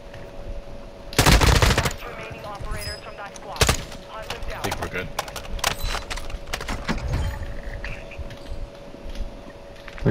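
Rapid bursts of automatic gunfire from Call of Duty: Modern Warfare II, loud and close, with several separate volleys and single shots across the stretch, while players talk under and between them.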